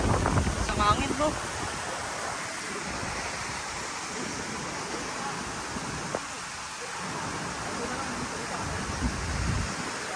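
Strong wind blows steadily at Zamora waterfall, a broad, constant roar with gusty swells, mixed with rushing water and occasional brief voices nearby.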